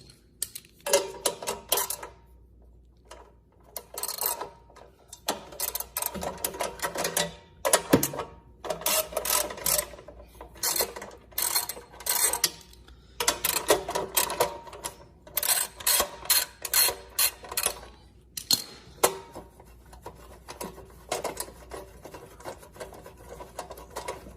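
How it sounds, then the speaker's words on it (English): A ratchet fitted with a 10mm socket backs small bolts out of a Champion generator's pull-start housing, bursts of rapid clicking in short repeated runs separated by brief pauses, close and fairly loud. "Little bolts out of there. They're a 10mm socket."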